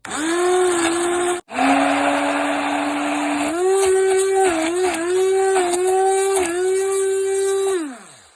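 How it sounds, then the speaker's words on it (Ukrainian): A steady, high motor whir from an immersion blender whipping cream for a no-cook Nutella-style spread runs for about eight seconds, its pitch dipping and shifting as it works, then winds down. "беру блендер погружний і починаю це все збивати"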